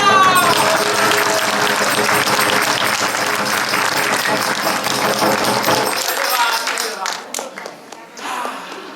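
Dense audience applause fills a Bhojpuri comedy theatre show, loud and steady for about six seconds before thinning to scattered claps, with voices emerging at the end.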